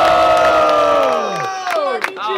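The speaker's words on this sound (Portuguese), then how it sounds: "Muito barulho para essa batalha!" A crowd at a student rap battle in Guarulhos, São Paulo, cheers, whoops and shouts loudly. The roar is close and sustained, with rising voices and bursts of yelling toward the end.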